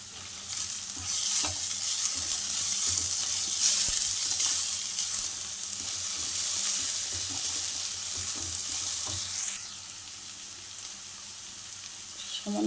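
Potatoes fry in a pan, their steady loud sizzle broken by repeated scraping strokes as they are stirred, with no talking over it.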